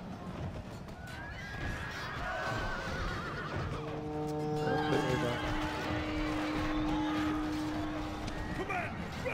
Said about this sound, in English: When they heard all those horses dying